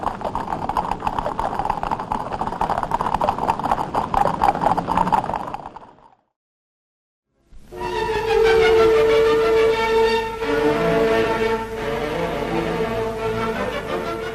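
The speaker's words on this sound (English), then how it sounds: "Her Majesty's Horse Guards holding up the traffic with their everyday splendour" Horse Guards' horses clip-clop through 1940s–50s London traffic in a steady, busy clatter that cuts out abruptly, followed after a short silence by orchestral music.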